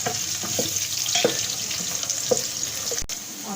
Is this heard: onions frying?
yes